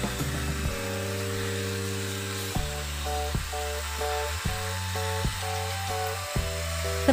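A small electric mixer with four speeds runs close by with a steady motor whine that shifts pitch several times as the speed changes, without any voices.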